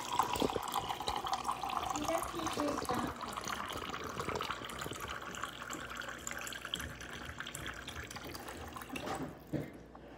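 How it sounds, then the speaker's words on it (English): A cup is filled with water from a tap, a close, steady running stream with drips and gurgles that tapers off near the end, with indoor household sounds around it. "I'm filling up a cup of water."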